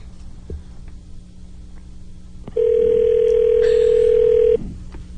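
An outgoing phone call produces a ringback tone. It is a single steady, loud, pure tone held for about two seconds over quiet background hiss, with faint clicks around it and no talking.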